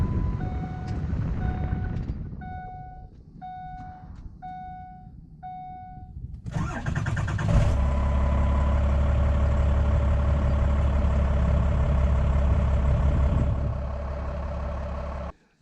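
A 12-valve Cummins diesel with a swapped 6.4 starter: a few chimes and beeps come first, then the starter cranks briefly, the engine catches, and a steady, loud, low idle rumble follows.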